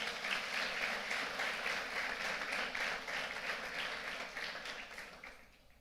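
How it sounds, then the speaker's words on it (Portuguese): A church congregation applauds in a long, even wash of clapping, moderately distant and fading out at the end. "Você pode aplaudir Jesus por isso?"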